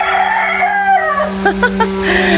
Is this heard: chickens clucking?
yes